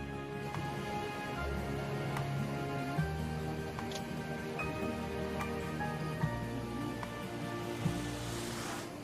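Rain falls steadily over a campsite at Farm & Ford Camping, with water sounds running through a continuous, even wash and a few faint drips and taps. No voices are heard.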